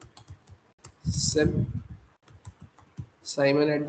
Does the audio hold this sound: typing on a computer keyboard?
yes